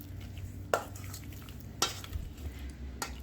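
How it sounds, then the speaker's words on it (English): A spoon works through a shrimp and pepper stuffing mixture in a bowl, a quiet soft churn broken by three sharp scraping clinks against the side spaced about a second apart. "I'm just going to continue mixing this up"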